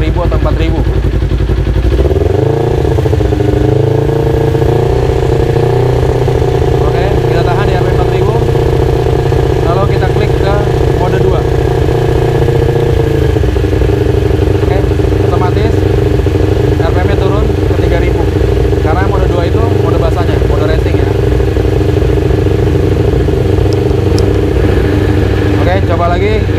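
Kawasaki Ninja 250 Fi motorcycle engine held steadily at 3000-4000 RPM, a loud, close, continuous droning hum with a brief rise in pitch early on, while someone talks over it throughout.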